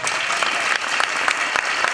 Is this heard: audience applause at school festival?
yes